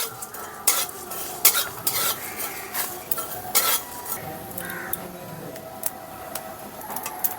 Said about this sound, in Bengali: জিরাগুলো ফোটা শুরু হয়ে গেছে